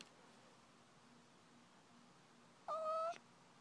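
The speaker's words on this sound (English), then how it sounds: "If you guys could hear the kitty, she just meowed." A house cat lets out one short, faint meow, about half a second long, late in an otherwise quiet room with a low hum.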